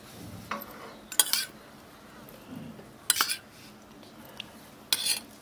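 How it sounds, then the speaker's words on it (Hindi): A spoon scrapes and clinks against a bowl several times while melted desi ghee is added for bakery-style almond biscuits, with a soft voice talking quietly in between. "अब यहीं पे हम चम्मच से डालेंगे देसी घी पिघलाया हुआ"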